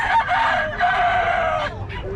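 Roosters and chickens at Bocaue market crow loudly and close by, one long strained crow followed by a shorter one, with faint background noise.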